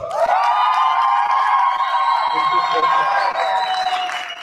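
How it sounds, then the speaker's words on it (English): A business workshop audience in Laudium cheers and shouts loudly and continuously, a sustained wash of voices and whoops with some clapping mixed in. "I want to hear your version of great energy and round of applause"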